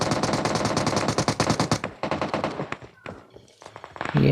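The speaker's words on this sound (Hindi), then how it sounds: "पे काफ़ी फायर का साउंड चल रहा है" Heavy automatic gunfire in the PUBG Mobile battle royale game: a rapid, loud burst of shots for about two seconds, then scattered single shots and thuds at close range, with no one speaking.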